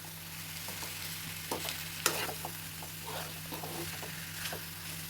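Chilli chicken frying in a pan, stirred with soft scraping and clinking strokes over a steady low sizzle, no voices, a few sharper utensil knocks standing out.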